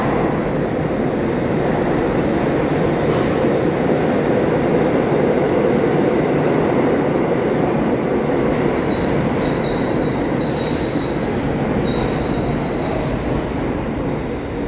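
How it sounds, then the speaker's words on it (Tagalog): Train pulling into a station at Central Park East: a steady, loud rumble of rolling cars with high metallic wheel squeals rising near the end, continuous throughout and with no one speaking. "Padarating na yung train."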